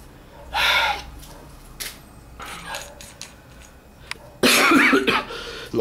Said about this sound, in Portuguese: Nossa, quando começa a tossir não é legal